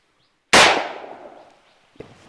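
A rifle fired during an Assam Rifles patrol drill: a single sharp, loud crack bursts out after a half-second of silence and rings down in a long echoing tail, followed by a faint thud near the end.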